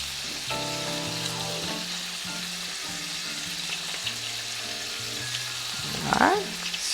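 Shrimp fry steadily in a pan with a constant close sizzle, overlaid with tonal hum and a brief clatter of stirring or placing food near the end, with no one talking.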